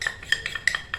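Rice flour and tapioca flour batter is stirred in a bowl, giving a quick series of light clinking taps of a utensil against the bowl, close and fairly quiet.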